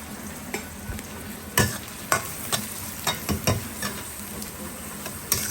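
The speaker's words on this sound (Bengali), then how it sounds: "এই যে পেঁয়াজটা ভাজা ভাজা হয়ে গেছে।" Onions fry and sizzle in a pan for a rice-and-lentil khichuri, with sharp scrapes and knocks as a spatula stirs them at irregular intervals, close and clear.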